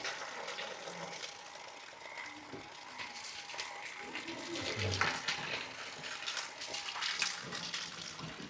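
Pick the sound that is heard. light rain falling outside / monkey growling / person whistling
light rain falling outside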